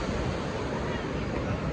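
Waves roll onto the shore at Ganpatipule beach in a steady, loud, dense wash with wind rumble, with no clear speech heard over it.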